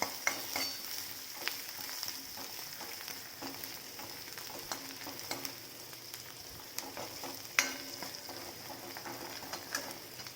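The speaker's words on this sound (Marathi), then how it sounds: "आणि हे सगळं तेलात चांगलं भाजून घ्यायचं" Garlic and chili for thecha sizzle steadily in hot oil while a spoon stirs and scrapes the pan, with brief louder clinks now and then over the continuous frying hiss; no voices.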